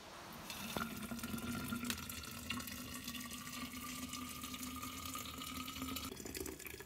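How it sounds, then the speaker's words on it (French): Boiling water poured over lemon and sugar, a steady continuous splashing and gushing stream lasting several seconds, close and fairly loud with no talk. "on verse l'eau bouillante."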